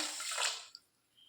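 Water pours into a container for hibiscus flower juice, a close, bright splashing stream that tapers off, followed by a faint drip.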